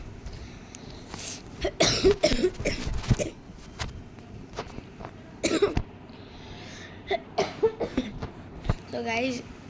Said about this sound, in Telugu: థ్రోట్ పెయిన్ ప్లస్ కాఫ్ కూడా ఉంది